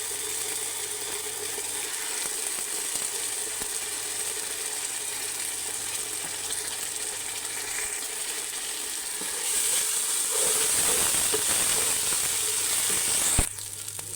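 Ginger garlic paste sizzles in a pan for a Tamil Nadu mutton biryani, a steady frying hiss that gets louder midway as it is stirred, with a sharp scrape near the end.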